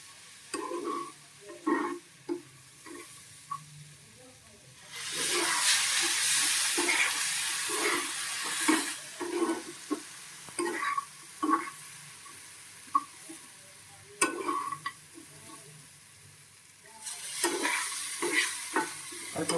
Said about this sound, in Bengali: অল্প করে জল দেবো আর নাড়বো তাহলে বেশি গলে যাবে না ঝুরঝুরে হবে